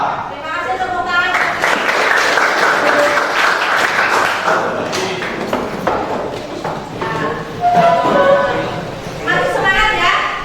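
Students in a vocational school classroom clap in a burst of quick, fairly close hand claps, mixed with voices and chatter around them.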